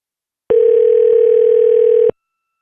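A telephone dial tone sounds as a number is about to be dialed, one steady, loud, pure tone lasting about a second and a half, starting and stopping abruptly with no talk.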